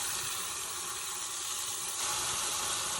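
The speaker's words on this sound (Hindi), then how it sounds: "आधा गिलास पानी का डाल रही हूँ उसके अंदर में।" Half a glass of water pours into masala frying in a pan for chicken nihari, a steady hissing gush that swells slightly louder near the end, heard close with no voices.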